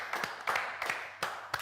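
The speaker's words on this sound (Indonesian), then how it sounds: "Tepuk tangannya dong." Sparse, rhythmic clapping from an audience, about five distinct bursts of a few claps each, fairly faint and dry, with a low steady hum underneath.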